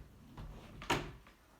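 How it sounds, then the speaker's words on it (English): A room door in a home craft room swings and shuts with one firm, close thud, preceded by a soft creak of movement and followed by quiet room tone. "I'm gonna pull over here and close my door so you don't hear it outside."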